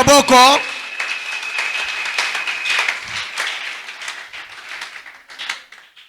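Church congregation applauds the Lord Jesus after a brief shout opens, with dense sustained clapping and some cheering filling the room and gradually thinning toward the end.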